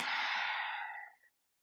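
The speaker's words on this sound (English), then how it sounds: "Big breaths in, slow exhales out." A person draws a deep breath and releases it in a slow, audible exhale during a yoga session. The breath is close and soft, then trails off into silence.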